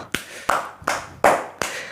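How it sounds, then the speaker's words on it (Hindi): Five sharp, distinct hand claps at an even, deliberate pace, close and crisp with short ringing tails, given in tribute to a TV show's writer. "एक बार मेरे कहने से इस शो के राइटर के लिए 2 हाथों से जोर जोर से तालियां"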